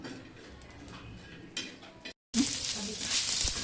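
Dried Bombay duck pieces roast in a pan, first as a low sizzle with faint scraping, then after a brief break a much louder, bright hiss of frying with occasional knocks.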